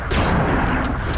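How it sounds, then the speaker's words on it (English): Heavy gunfire in the Resident Evil 3 video game, a dense, loud burst of booming shots that fills the short moment with no voice. "Just keep firing."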